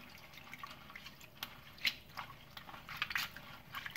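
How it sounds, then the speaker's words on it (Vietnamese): Shrimp being rinsed by hand in diluted salt water, with soft wet splashes, drips and squishy handling noises at low, close level, irregular and without talk. "Các bạn rửa cho mình bằng nước muối loãng như thế này để cái phần tôm nó được sạch hơn"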